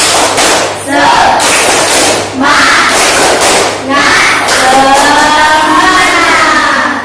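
A school class performs a rhythmic spirit clap cheer, bursts of group clapping and shouted chanting in several loud phrases separated by short pauses, with voices rising in pitch near the end.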